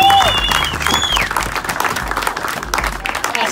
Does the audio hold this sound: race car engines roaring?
no